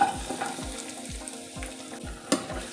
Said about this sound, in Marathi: आता आपल्याला हे चांगले असे भाजून घ्यायचे आहेत